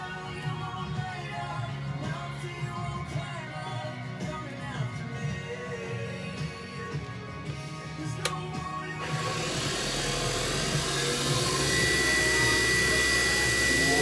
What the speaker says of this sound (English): Turn up the RPMs and get a nice polish on it.